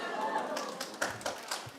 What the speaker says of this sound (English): Just wanted you to get a little applause.